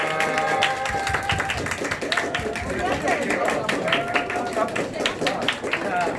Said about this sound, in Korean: 들어오실 때 큰 박수 좀 부탁드릴게요.